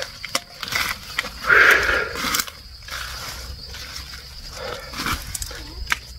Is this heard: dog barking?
yes